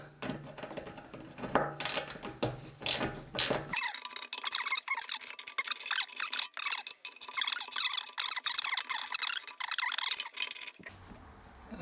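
Metal fasteners being undone on BMW R1150GS motorcycle parts, with squeaky clicks and clinks close up, first in quick bursts, then a steady run of small scraping and ticking sounds before a quiet ending.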